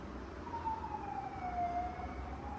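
A siren wails faintly in the distance, its pitch sliding slowly down and back up over a steady low background rumble.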